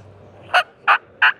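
Turkey gobble imitated by a person on a mouth game call, three short, sharp rattling yelps spaced evenly, close and clear over a faint hum.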